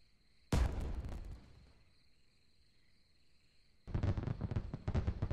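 Fireworks in the VR game Vistascapes VR go off in two loud bursts of crackling and popping, the first dying away into a quiet ambient hum with a steady high tone, the second a denser run of rapid pops.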